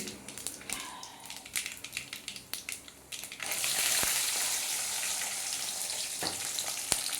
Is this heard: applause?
no